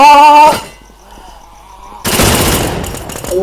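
Video game gunfire: a loud burst of rapid shooting cuts off, leaving quiet, then another heavy stretch of shooting and blasts erupts and carries on to the end.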